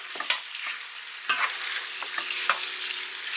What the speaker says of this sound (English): we just stir and fry that now